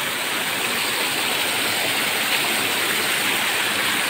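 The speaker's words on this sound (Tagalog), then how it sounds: "We are going to Munting Falls." Munting Falls, a mountain waterfall, roars in a dense, continuous hiss of falling water, loud and close, steady throughout with no voices.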